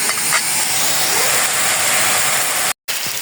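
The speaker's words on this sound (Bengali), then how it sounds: "এখন একটু ভেজে ভেজে নেব।" Salt, turmeric and chilli powder fry in a pan with a steady, close hissing sizzle that cuts out briefly near the end.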